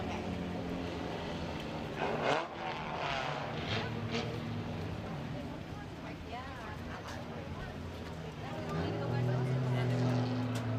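Race cars roar out of turn four during a heat race, the 36 car taking the win, their engines a steady broadband rumble with rising passes while an announcer talks over the field throughout.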